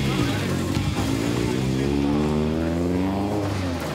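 A Subaru WRX STI race car making 500 horsepower and weighing 1480 kg, its engine roaring at high revs in steady acceleration on the Tsukuba circuit, loud and continuous, with a rising tone.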